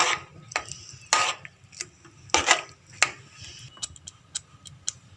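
A spoon clinks and scrapes against a pan as vegetables are mixed into butter and spices for pav bhaji, giving sharp, irregular knocks spaced about a second apart over a faint background hum.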